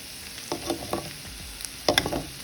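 Bitter gourd pieces fry in a pan for a tamarind gravy, with a steady low sizzle broken by a few quick scraping stirs near the start and a louder cluster of spatula scrapes toward the end; no talking.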